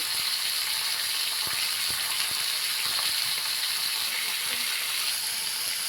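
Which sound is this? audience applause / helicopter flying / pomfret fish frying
pomfret fish frying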